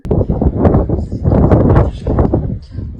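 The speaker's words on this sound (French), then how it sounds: "On n'entend pas vraiment bien à cause du vent." Strong wind buffets the microphone outdoors at an abandoned château in Martinique, a loud, continuous low rumble with gusty surges that fades slightly near the end.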